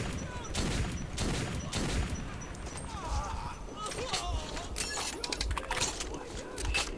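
Hand cannon gunfire in the Metro 2033 video game, a run of sharp loud shots scattered across the stretch over a dense game soundscape, with someone talking throughout.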